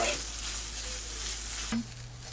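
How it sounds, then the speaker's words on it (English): Rice frying in a pan with a steady close sizzle and faint clinks against the metal; a low hum shifts near the end. "I'm still kind of frying it up. See how you can kind of hear it ting up against the pan."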